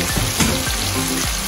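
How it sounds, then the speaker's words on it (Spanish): Conch meat frying in sofrito in a pan: a steady, moderately loud sizzle and crackle with a few faint stirring scrapes, no talk. "Ahora le vamos a poner la muta en nuestro sofrito."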